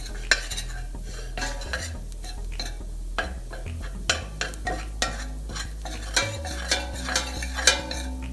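A flour roux cooking in a pan for a green chile sauce, stirred with a utensil that scrapes and taps the pan in a steady rhythm over a low, continuous background hum.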